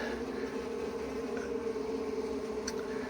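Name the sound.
bees buzzing around a returned beehive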